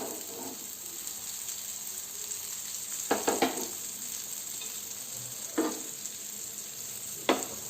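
Rajma tikki frying in a pan over a medium flame, a soft steady sizzle broken by a few brief stirring or turning clatters, with no talk.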